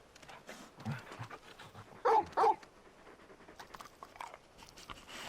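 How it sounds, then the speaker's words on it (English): A dog in the video game Final Fantasy XVI pants softly close by, with quiet snuffling and two brief louder whimpering yelps in the middle, set against a faint game backdrop. "You're just a big puppy, aren't you?"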